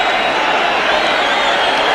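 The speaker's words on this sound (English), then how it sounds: "The crowd is in good spirits." Broad, steady roar of a football crowd waiting for kick-off at Chelsea's ground before an FA Cup tie against Ipswich, a dense far-off wash of many voices with no single sound standing out.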